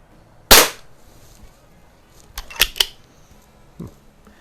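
A Predom Lucznik air rifle fires a light pellet with one sharp, loud crack, followed by a few quieter clicks and a soft thud.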